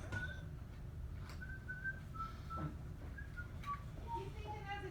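A person whistles a tune from Disney's Robin Hood, a faint melody of short sustained notes rising and falling with distant room noise and murmured voices beneath.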